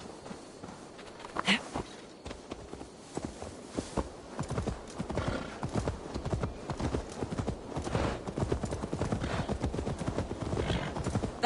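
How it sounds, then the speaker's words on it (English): Rhythmic horse hooves clip-clopping at a steady walking pace in the video game Assassin's Creed Valhalla, moderately close, with faint ambient sounds behind. "Now to deliver Magni his horse"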